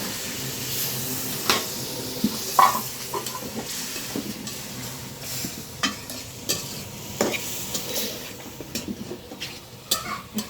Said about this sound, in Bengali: অল্প পরিমাণে পানি দিয়ে আবারও কষিয়ে নেবো